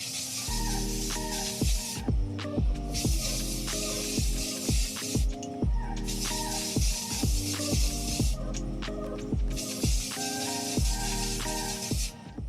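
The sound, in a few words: spray paint sprayed onto a tumbler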